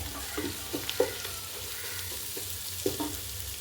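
Onion, garlic and ginger sauté in oil in a pan for egg biryani, giving a soft, steady sizzle. Intermittent light clicks and taps of a spoon stirring sound over it, close by and fairly quiet.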